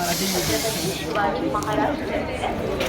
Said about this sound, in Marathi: ट्रेन आले आता.